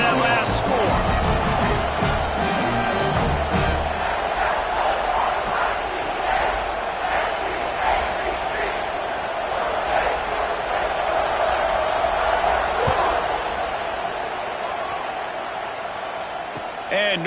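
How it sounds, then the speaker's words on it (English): Stadium crowd at a Miami college football game, a steady dense roar and buzz of many voices filling the background after a score, with an announcer talking over it throughout. "this crowd is buzzing after that last score"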